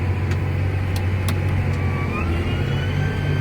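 A John Deere 8335R tractor pulling a sunflower disk across a field of drilled rye, its engine droning loud and steady from inside the cab, with a few faint clicks and a gear shift partway through.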